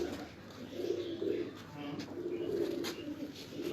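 Domestic pigeons cooing on a rooftop loft, soft repeated throaty coos at moderate distance, with faint background noise and occasional quiet voices nearby.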